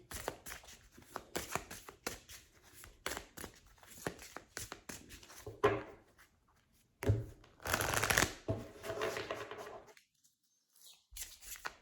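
Tarot cards being shuffled by hand, repeated close riffling and rustling bursts in irregular rhythm, with short pauses and a silent gap near the end.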